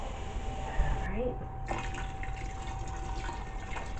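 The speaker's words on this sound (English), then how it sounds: "I'm also going to add some water with the bone broth." Water pours steadily into a pot with bone broth for homemade dog food, a continuous liquid wash with a faint gurgle, close by and moderately loud.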